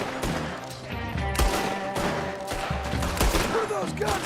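Rapid bursts of gunfire in Red Dead Redemption 2, sharp repeated shots landing in quick uneven clusters over a busy game backdrop, with voices talking faintly beneath the shooting.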